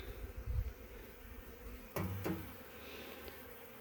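Honey bees buzz faintly around honeycomb set out to be cleaned, a soft low hum with a couple of brief louder passes near the middle.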